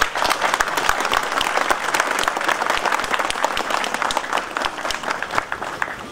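A crowd claps warmly at a memorial unveiling ceremony for fallen police officers, a dense sustained round of applause lasting several seconds, steady and close.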